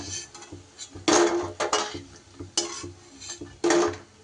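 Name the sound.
fried fritters being lifted out of a wok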